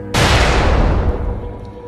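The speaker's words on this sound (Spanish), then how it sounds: "hasta que se escucha una explosión" Explosion sound effect in a monster-attack story: one sudden loud blast with a sharp onset and a deep, rumbling tail that fades over about a second and a half, heard alone.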